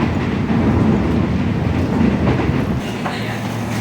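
Commuter train pulling into Angke station in Jakarta, a loud steady rumble of wheels and carriages filling the platform.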